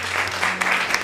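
Audience applause on a singing show, a brief burst of steady clapping from a crowd with a few sharper claps standing out.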